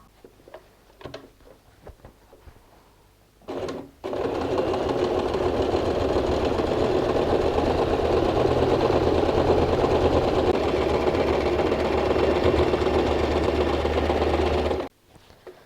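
A sewing machine stitches tape onto a bag handle made from recycled denim jeans, running in one long steady whirring burst of about eleven seconds after a few short taps and a brief start.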